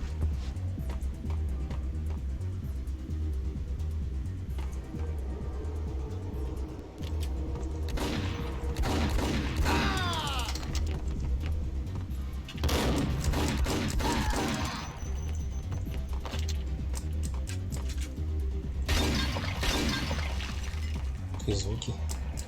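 In the game Max Payne, gunfire rattles in several loud bursts separated by quieter stretches, with glass shattering among the shots and a voice talking over parts of it.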